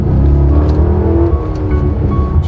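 A 2007 HSV Clubsport R8, a slightly modified car, accelerates with a loud, steady low engine drone heard from inside the cabin, its pitch rising a little over a few seconds.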